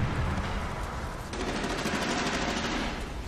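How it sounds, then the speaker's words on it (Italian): Gunfire in the shooter game Medal of Honor Warfighter: loud, sustained automatic bursts rattling rapidly and continuously, close up, with a sharp swell of shots partway through and no talk. "Si spara che mi stanno perforando le orecchie"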